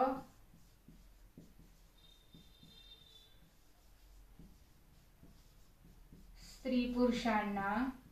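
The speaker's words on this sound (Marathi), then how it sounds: "तोपर्यंत मी वाक्य लिहिते." Chalk or pen writing a sentence on a board in a class 5 lesson, soft rhythmic taps and strokes repeating steadily, faint, followed by someone speaking near the end.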